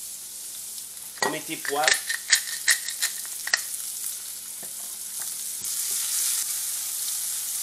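Red onion sweating in hot oil in a pan makes a steady broadband sizzle, with a short burst of nearby speech and clatter near the start before the frying hiss carries on alone and grows slightly louder.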